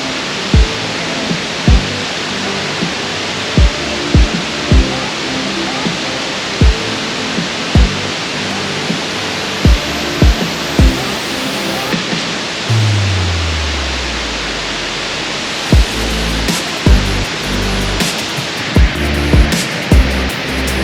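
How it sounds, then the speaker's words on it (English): Constant loud roar of a waterfall in a wooded state park fills the whole stretch, with regular soft thumps and a brief low descending tone partway through. "Hopefully you can hear me with the waterfall in the background"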